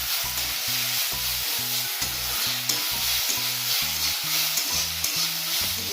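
Potatoes and carrots sizzle in a pan for upma, a steady frying hiss under a low rhythmic pulsing hum in the background.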